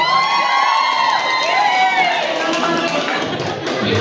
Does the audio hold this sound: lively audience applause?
yes